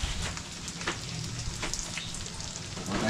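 Fish shanghai rolls frying in shallow oil in a pan, a continuous close crackling sizzle with scattered sharper pops, steady and unbroken, with no talking.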